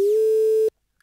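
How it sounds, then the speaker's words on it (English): A short sine wave synth tone with a slight pitch bend at its start and a bitcrusher or downsampling effect adding a buzzy edge. The steady note sustains for under a second and then cuts off abruptly. "So it's a sine wave with a bit of bend on the front"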